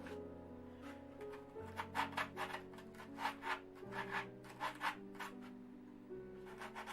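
Rhythmic rasping strokes of a small file on wood, repeated steadily and close, over soft background music.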